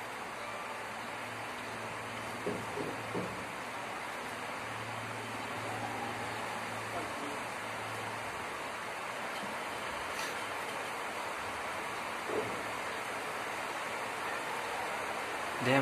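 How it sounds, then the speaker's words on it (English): Steady, dense rush of rain pouring down, a continuous broadband hiss with faint distant sounds beneath it. "Damn, it's raining too much"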